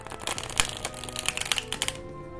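Rapid crisp riffling of tarot cards being shuffled, a dense run of light flutters and taps close by, tapering off at the end.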